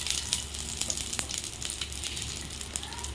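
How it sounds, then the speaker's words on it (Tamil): Garlic and three pieces of ginger sauté in hot oil for a short burst, giving a dense, crackling sizzle with light stirring taps close by. "இது எல்லாத்தையும் ஒன்றா சேர்த்து கொஞ்சம் நேரம் வதக்கிக்கலாம்."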